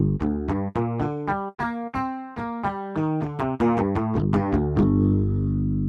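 Clean guitar chugs from a software instrument play a quick rhythmic pattern of short muted notes, then ring out into a sustained chord at the end.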